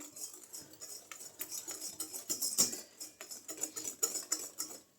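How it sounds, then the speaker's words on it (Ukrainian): A spoon stirs kefir dough with melted butter in a bowl, giving close, quiet scraping and clinking strokes in an irregular rhythm with no talking. "Ще раз розмішуємо."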